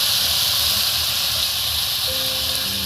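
Mutton pieces hitting a hot kadai sizzle in a loud, steady broadband hiss that continues without pause, close by and without talk.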